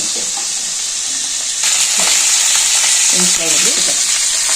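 Steady crackling sizzle of eggplants frying in hot oil, with a soft stir and scrape partway through, close and fairly loud.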